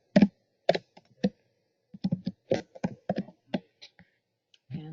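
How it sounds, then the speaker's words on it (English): Close, crisp keystrokes on a computer keyboard as a password is entered, irregular taps in small clusters over a quiet background. "I'm going to type in my password here."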